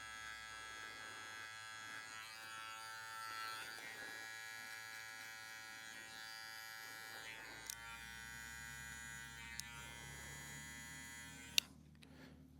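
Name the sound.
Gamma Boosted UP hair clipper fading a beard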